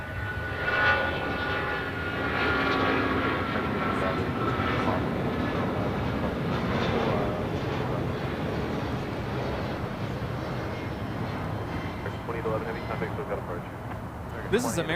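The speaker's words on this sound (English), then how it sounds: "2811 taking off to Dallas-Fort Worth on a 777-200 ER" An American Airlines Boeing 777-200ER, flight 2811 to Dallas-Fort Worth, takes off at LAX with a loud, sustained jet roar that swells and lingers while people talk nearby.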